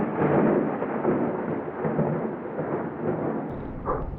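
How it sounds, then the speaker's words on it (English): A sudden rainstorm with rumbling thunder near a creek, a broad steady roar of heavy rain and deep thunder rolling continuously, loud and close, with no voices. "Yep, here comes the rain."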